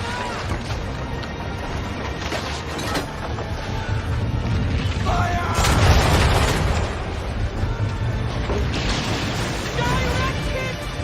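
Naval cannon fire from a sailing warship in Assassin's Creed III, heavy booms rolling out around mid-clip over constant wind, water and creaking ship ambience, with battle noise and voices shouting orders throughout.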